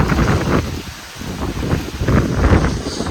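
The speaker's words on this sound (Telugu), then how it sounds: "గాలి అయితే ఫుల్గా వస్తుంది దుమారంతో" Strong gusty wind blowing with dust outdoors, a broad rushing roar that swells and dips, with buffeting against the microphone and no talk.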